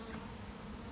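Honey bees hum in a continuous, close buzz around an open hive during an inspection of newly arrived colonies. The buzz is steady for just under a second with no voices.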